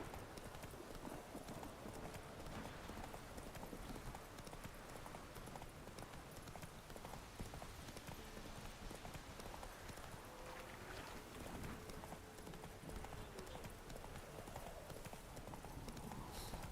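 Hooves of a horse clip-clop at a steady trot in The Witcher 3, a continuous rhythmic patter under ambient game sound, with no talk.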